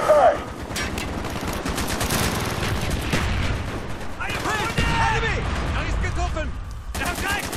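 Rapid automatic gunfire and booming shots in the PC shooter Call of Duty Black Ops, a continuous firefight with shouted voices over the battle.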